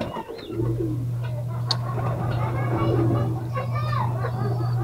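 Racing pigeons in a loft cooing softly and repeatedly under a low steady hum, with someone talking throughout.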